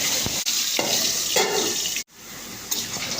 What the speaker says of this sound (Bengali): কড়াইয়ের মধ্যে সর্ষের তেল দিয়ে আলুগুলোকে লাল লাল করে ভেজে নেব